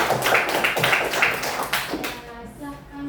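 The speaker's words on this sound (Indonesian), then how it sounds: "Beri tepuk tangan untuk kelompok 3." Students clap for a small group in a classroom, a dense burst of many hands tapping together for about two seconds before fading into quieter room noise.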